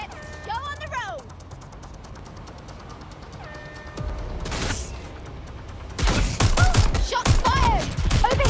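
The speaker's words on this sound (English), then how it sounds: "Shots fired!" A gunfight in the open-world game Watch Dogs: Legion, with scattered shots early on and dense, loud bursts of rapid gunfire near the end. Chirpy voices and game sounds are mixed in.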